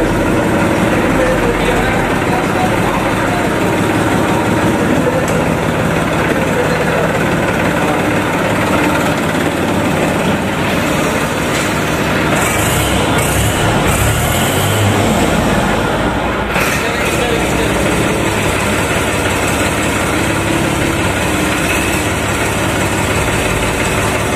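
A New Holland 3032 tractor engine runs at a steady loud idle, a continuous diesel rumble with little change throughout and a brief shift midway.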